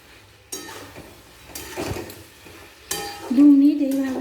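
Chicken manchurian pakoras being stirred in sauce in a pan, with a spoon scraping and knocking against the metal in several bursts over a soft simmering sizzle, close and moderately loud.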